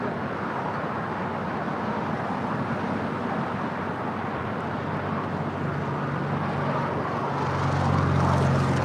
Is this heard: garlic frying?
no